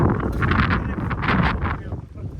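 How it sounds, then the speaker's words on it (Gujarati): Strong gusty wind on Pavagadh hill roars and buffets the microphone in a loud, continuous rumble, with voices talking underneath. "ધ્યાન રાખજે ફૂલ પવન"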